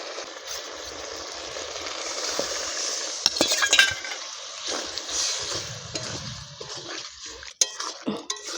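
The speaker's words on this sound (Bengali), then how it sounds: "জল দিয়ে দেব আমি।" Water pouring and splashing into a bowl of mixed chili sauce while cooking meatless chili chicken, a steady liquid trickle with clinks of utensils against the dish partway through and a brief stir near the end.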